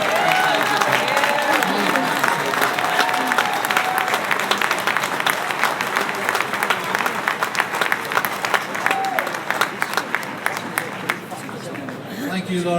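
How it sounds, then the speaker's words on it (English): A crowd at an Irish Republic centenary commemoration gives a long round of applause, dense crisp clapping with a faint murmur of voices and a brief whistle or cheer, fading a little toward the end. "Tom Stokes deserves a big round of applause for Republic Day."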